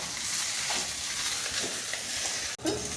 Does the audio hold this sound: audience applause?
no